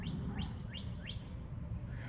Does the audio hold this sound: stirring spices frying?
no